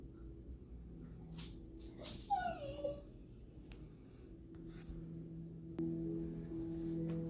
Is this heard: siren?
no